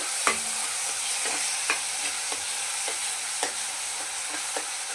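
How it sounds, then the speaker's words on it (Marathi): Tomato paste mixed with curd fries in oil, giving a steady close sizzle with regular scraping stirs of a spoon against the pan every half second or so, no talking over it. "आता चांगलं असं तेल सुटेपर्यंत त्याला आपण परतायचं"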